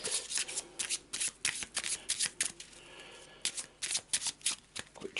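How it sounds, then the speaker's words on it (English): Board game cards from an Eldritch Horror deck riffled and cut in quick bursts of crisp, close flutters and snaps, with a short pause midway before more rapid shuffling. "Quick shuffle and a quick cut."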